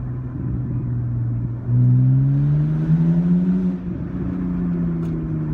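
A 2010 BMW E90 328i accelerates through a small tunnel, its engine note rising into a loud, close, echoing growl, then climbing steadily in pitch before easing off, with no talking.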